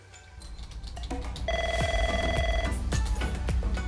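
An office telephone rings close by with a bright electronic trill that starts partway in and repeats over low room noise, with no talking.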